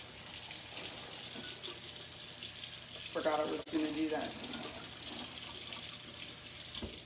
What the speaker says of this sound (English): I had to come over here to the water fountain.